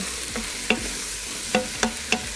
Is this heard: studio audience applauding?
no